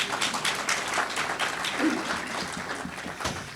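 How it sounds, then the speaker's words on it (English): At a 2019 graduation ceremony for certified municipal officials in Alabama, the audience breaks into applause, a dense, even wash of clapping that holds steady and fairly loud for the whole stretch with no speech. "That deserves some applause"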